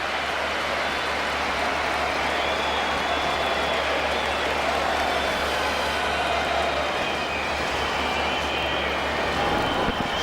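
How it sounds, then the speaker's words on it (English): An Indian Test cricket crowd in a 2004 match applauds Damien Martyn's century against India, a broad, sustained wash of distant clapping and cheering with low rumble beneath, steady throughout with no clear talk. "appreciated by the crowd, not just the Australians here, but the whole Indian crowd rising to Damien Martyn"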